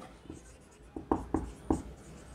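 A pen or pencil scratches out letters on paper while a maths exercise is worked, a few short, close strokes and taps against a quiet background.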